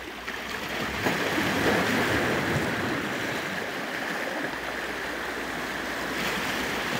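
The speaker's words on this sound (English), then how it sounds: "the waves aren't very good for this right now. They're too high recently." High waves wash steadily onto a Lake Superior beach, a continuous close rush of surf with a gentle swell and no voices.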